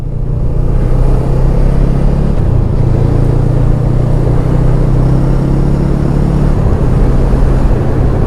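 A Honda CMX 500 Rebel motorcycle engine drones steadily throughout while riding, a loud, continuous low rumble with a sustained tone that dips briefly near the middle, with no talking.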